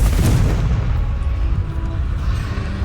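A Confringo fire spell blasts in the Hogwarts Legacy video game, opening with a loud booming explosion and rolling into a heavy low rumble that lingers for the rest of the clip.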